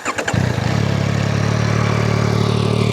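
A 2024 Yamaha MT-09 motorcycle engine starts and settles into a steady, loud idle, with a low, even throb held close to the microphone.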